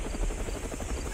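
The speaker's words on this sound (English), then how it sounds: "Do you see a helicopter?" A helicopter in a Roblox game sounds as a rapid, steady rotor chop with a low droning throb, fairly close and constant for the brief moment.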